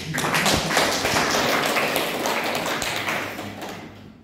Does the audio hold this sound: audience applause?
yes